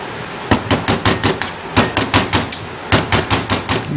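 A wood stick repeatedly tapped against a Cremina espresso machine group to knock it loose, giving about fifteen sharp, evenly spaced close knocks in two runs with a short pause between, and no talking.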